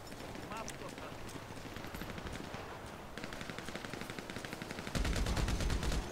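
Rapid automatic gunfire in the GTA Online video game, dense rattling bursts running continuously and growing heavier and louder near the end, with a voice faintly mixed in.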